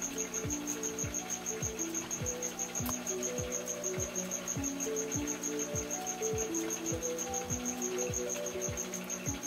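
Steady high-pitched chirping of feeder crickets in a fringed leaf frog enclosure, a continuous pulsing trill, alongside regular low thumping knocks and a faint hum.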